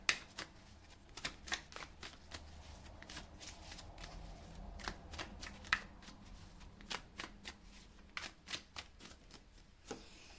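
Tarot cards are shuffled and drawn close up, with quiet, rapid riffling and flicking plus sharp card snaps in an irregular rhythm, no talking.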